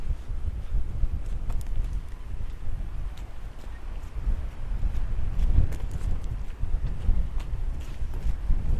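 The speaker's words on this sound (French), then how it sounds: "Avec le vent, les branches," Strong wind rushes through trees and branches at a seaside cove near Lorient and Ploemeur, making a continuous low roar with gusts and faint creaking, and no voices.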